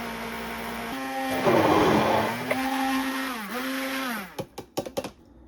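An immersion blender whirs loudly while emulsifying homemade mayonnaise, its motor pitch dipping and rising under load before cutting off into a few short bumps and taps.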